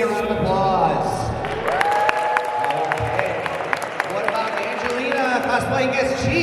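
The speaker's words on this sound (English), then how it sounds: "if you think that Andrew is Goku Black should win, give me a round of applause." A crowd applauds and cheers at a Dragon Ball cosplay contest at a small fan convention, a loud, steady burst of clapping with scattered whoops lasting several seconds.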